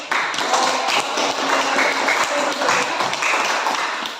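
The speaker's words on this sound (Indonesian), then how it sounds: "Tepuk tangan dulu ini." Classroom students clapping together in a steady, dense burst of applause that fills the whole span at close range, with no talk over it.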